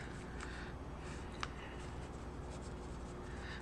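Pen or marker scratching steadily while a calculus problem is written out, soft continuous strokes with one sharper tap partway through, quiet and close, no talking.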